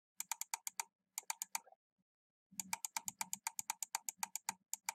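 Rapid mouse clicks come in quick bursts while paging through a sequence of images, with a short pause in the middle, sharp and close with no talking.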